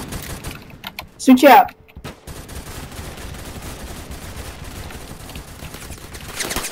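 A single loud, close shotgun blast rings out in the Roblox shooter Phantom Forces, rising sharply over steady in-game background noise, with a player speaking briefly.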